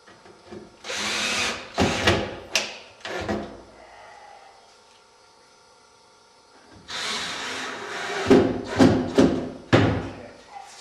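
A power drill drives screws into the skin of a landsailing and iceboat wing, heard as several short, loud whirring bursts close by, then a quiet pause before another cluster of bursts.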